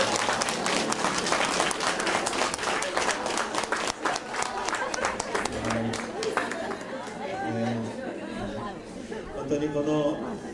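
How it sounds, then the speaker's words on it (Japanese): A church congregation gathered for a graduation ceremony breaks into sustained applause that fades as scattered chatter and talk continue around it. "神様に栄光の拍手をお願いします。"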